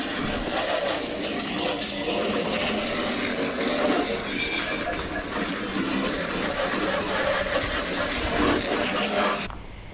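Water from a garden hose sprays steadily into a mower deck, washing it out with a continuous rushing, splashing gush that stays loud and close for nearly ten seconds before cutting off.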